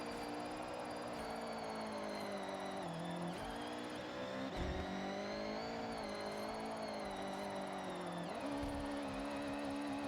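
A front-wheel-drive car in a video game revs steadily with shifting engine pitch and a few dips as it slides through drifts, a continuous synthetic engine drone with no talk over it.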